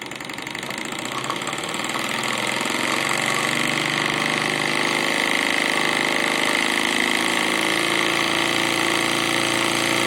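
A compound steam engine runs slowly, continuously and evenly on low pressure, a dense chugging drone with a faint rhythmic knock, close and fairly loud throughout.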